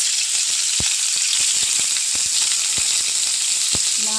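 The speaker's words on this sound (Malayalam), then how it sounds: "ഉണക്കമീൻ വറുക്കാനുള്ള ചട്ടി വെച്ച് ചൂടായി എണ്ണ ഒഴിക്കണം" Dried fish frying in hot oil in a pan, a steady dense sizzle with scattered sharp pops and crackles throughout, close and fairly loud with no talking.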